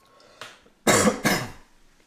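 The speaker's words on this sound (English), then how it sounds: "Please excuse my coughing all today." Three coughs in quick succession, a short soft one followed by two louder, harsher bursts, close by in a quiet room.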